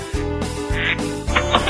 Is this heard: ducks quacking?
yes